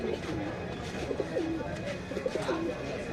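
Pigeons coo repeatedly in soft, low, rhythmic calls at Tala animal market in Kolkata, steady and close, with someone talking over the birds.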